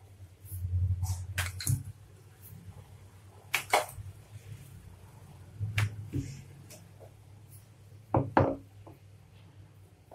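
Tandoori roti dough is rolled out on a board, giving a handful of sharp, scattered wooden taps and knocks from the rolling pin, close and fairly quiet.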